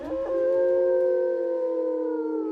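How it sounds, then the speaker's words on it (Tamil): A wolf howl sound effect: one long, steady, tonal howl rises briefly at the start, then holds level and loud for over two seconds with no other sounds around it. "திடீரென்று ஒரு ஓநாய் ஊளையிடும் சத்தம் கேட்டது."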